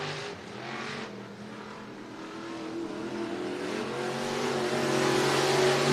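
IMCA Sport Mods race cars on the dirt oval at Cottage Grove Speedway in Oregon during a heat race, giving a steady, continuous engine roar that swells louder toward the end as the pack comes nearer.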